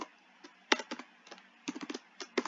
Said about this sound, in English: I don't know what the heck am I typing.